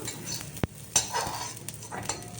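Ingredients sautéing in a pan while making bajji give a soft continuous sizzle broken by a couple of sharp utensil taps and light stirring, close and moderately quiet.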